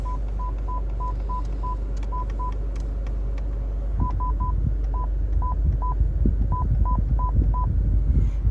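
A Pioneer DMH-W2700NEX car stereo head unit in a 2015 Scion tC gives short, clear electronic beeps, a quick run of evenly spaced tones, a pause, then more scattered beeps over a low steady hum.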